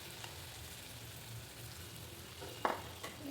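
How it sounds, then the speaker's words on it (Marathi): Bhaji fritters frying in hot oil, a steady close sizzle and crackle with a couple of sharper pops toward the end, no voices. "आता याच पद्धतीनं मी सर्व भज्या आता तळून घेते."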